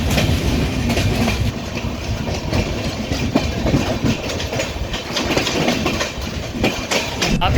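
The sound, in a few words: Tamil Nadu Express train running at speed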